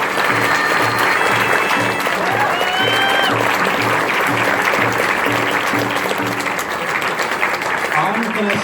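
A convention crowd at a pony fan festival's closing ceremony gives sponsors and patrons loud, sustained applause, with cheers and a steady low rhythmic beat underneath.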